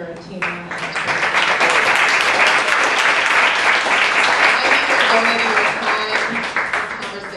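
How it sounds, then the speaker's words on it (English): Warm audience applause for poet Tina Chang after a poetry conversation: a crowd's clapping swells quickly and holds loud and dense for several seconds before easing slightly. "Another round of applause for Tina."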